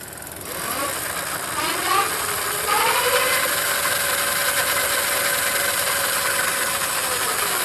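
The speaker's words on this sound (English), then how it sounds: "I'm going to turn the bike on. Okay. And then I'm going to give it a little bit of throttle." An offroad motorbike starts up and settles into a steady idle, then takes a light blip of throttle that raises the engine pitch briefly before it drops back, close and continuous with no talking.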